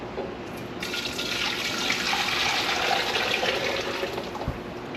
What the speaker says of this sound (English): I'm going to transfer our base that we've got here to my crock pot